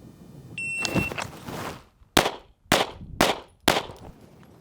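Handgun shots fired at targets during a concealed carry baseline shooting drill: four sharp, loud, evenly spaced reports ring out in quick succession, preceded by a timer beep and a louder burst of gunfire and range noise.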